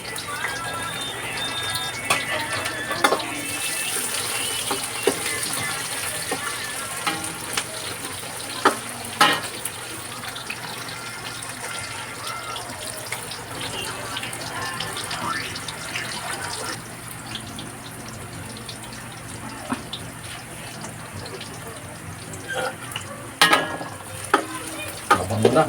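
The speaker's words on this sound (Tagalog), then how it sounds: "nagigisa muna ako, ha. Bawang, sibuyas" Garlic and onions sautéing in a pan, a low continuous sizzle with scattered stirring scrapes and clinks, plus a few louder knocks toward the end, with some faint background sound.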